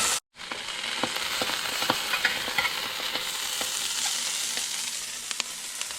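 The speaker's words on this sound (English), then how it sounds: "now you can hear the mushrooms are starting to pop, almost like Rice Krispies" Mushrooms sizzle steadily in butter in a hot pan, with scattered sharp pops and crackles over the frying hiss; brief silence at the very start.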